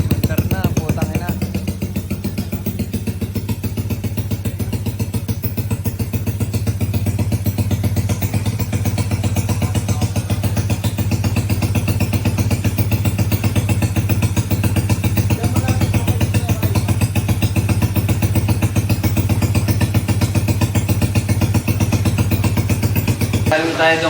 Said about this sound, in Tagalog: itong kay Kuya Mon, napaandar natin itong motor